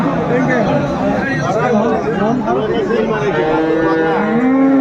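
Several dairy cows and calves mooing close by at Aftabganj cattle market, Dinajpur, long low calls overlapping with crowd chatter and people talking in the background.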